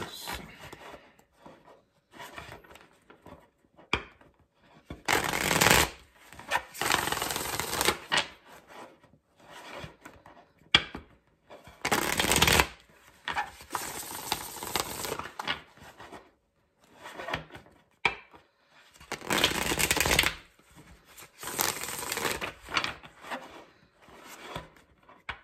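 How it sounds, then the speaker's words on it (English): Tarot cards are shuffled in several separate bursts of crisp riffling and rubbing, close and fairly loud, with quiet gaps between them and no talking. "Three more shuffles for the video."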